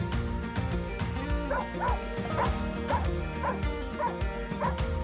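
Shelter dogs in simple kennels in Peru bark and yip repeatedly, several overlapping voices close by, with whimpers mixed in over a busy background.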